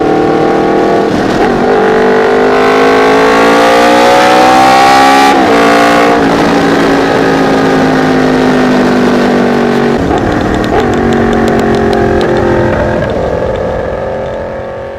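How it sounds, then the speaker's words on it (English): A Honda VFR motorcycle's V4 engine revs loud and close, climbing through the gears with tonal rises and quick shift breaks before easing off at the end. "the best part about a VFR is that sweet, sweet V4 that it has"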